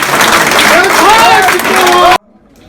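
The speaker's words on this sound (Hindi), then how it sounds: "दोनों हाथ ऊपर उठा दे और जोरदार ताली बजा के ऐलान कर दे बड़े भाई के लिए" A crowd at an Indian National Congress political rally in Okhla claps loudly in a dense, steady burst of applause with voices mixed in, lasting about two seconds before it cuts off abruptly into near silence.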